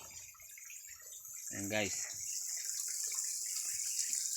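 Spring water flows steadily from among tree roots with a constant wash and hiss, while a person briefly speaks over it.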